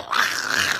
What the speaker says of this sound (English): Get your fucking dog, bitch!